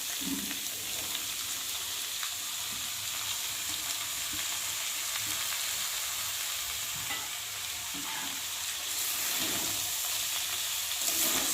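Bottle gourd tipped into a hot pan for a prawn curry, a continuous hissing sizzle with soft stirring scrapes, even and moderately quiet, swelling slightly toward the end.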